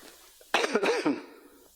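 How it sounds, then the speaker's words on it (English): A single close, harsh cough from one person, a quick burst of two or three rough pulses, then quiet room tone. "That is not COVID cough."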